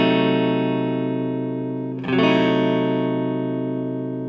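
Electric guitar holds a ringing whole diminished chord, then a fresh strum lands about halfway through and sustains with a tense, unresolved, slightly effected tone.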